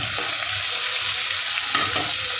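Grated ginger and chopped chilli frying on high flame, a loud dense hiss with a couple of quick stirring scrapes, close up and without speech.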